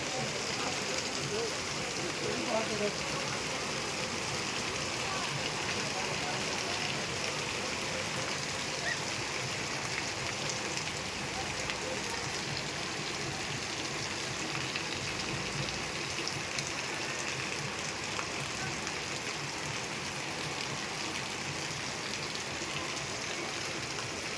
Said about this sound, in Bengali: দেখো বন্ধুরা দেখো বৃষ্টি পড়ছে